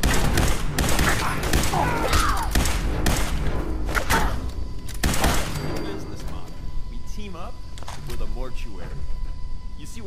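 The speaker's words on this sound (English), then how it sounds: "There's just people shooting at me, I'm just walking past them." Enemy gunfire in Fallout 4 erupts in loud bursts of rapid shots and heavy thuds, thinning into scattered cracks later, with someone talking over the shooting.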